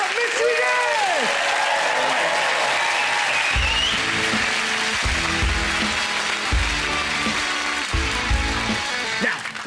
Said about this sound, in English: please, a massive round of applause for probably my favourite, Mr. Yes!